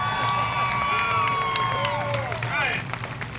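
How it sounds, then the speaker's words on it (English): At a speedway after a race, a crowd claps and cheers for the winner in a dense, steady wash of applause while people talk and shout nearby. "Give a round of applause for your winner, Ryan Tedesco."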